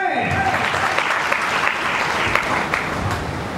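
A crowd claps loudly and continuously at a speech, producing thick, sustained applause from many people close by.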